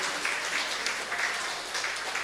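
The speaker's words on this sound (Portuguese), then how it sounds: "Uma salva de palmas para esse" An audience at a book launch gives a round of applause, a dense, steady wash of many hands clapping at moderate volume, with no voices over it.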